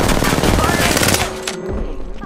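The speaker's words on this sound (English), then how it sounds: "Getting shot at." Rapid bursts of automatic gunfire rattle loudly in the video game Apex Legends for about a second, then give way to quieter game sounds.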